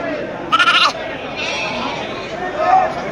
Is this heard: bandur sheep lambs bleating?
yes